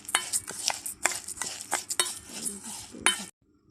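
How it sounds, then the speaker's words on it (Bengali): Spoon stirring chili and cumin spice through fried mung dal in a pan, with a series of close, sharp metallic scrapes and clinks repeating irregularly before stopping abruptly. "এটা ভালো করে আমরা এই মশলাটা মিক্স করে নেব এর সাথে"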